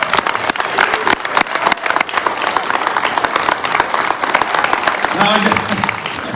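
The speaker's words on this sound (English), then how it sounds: "how about a round of applause for the Dean of the House?" Applause from a crowd at a political event, steady clapping filling the space with some cheering mixed in, and a voice briefly heard near the end.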